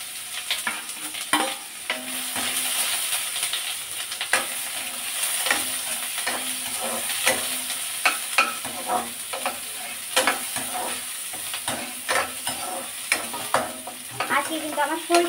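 Chopped garlic and onion sizzle in soybean oil for eggplant bhorta while a spatula stirs and scrapes the pan in repeated close, sharp strokes over a constant frying hiss.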